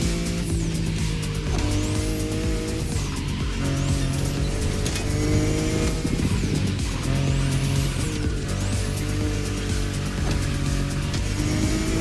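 A BMW i8 drives in The Crew Motorfest, its engine holding a steady, continuous whine with occasional tire squeal throughout, loud and close with no talking.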